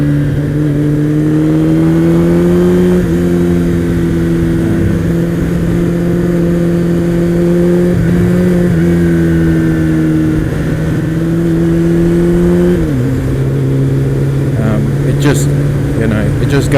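A Kawasaki ZX-12R 1200 motorcycle pulls hard under acceleration, its engine note holding a strong steady drone and shifting pitch a few times, loud under continuous wind noise while a rider talks.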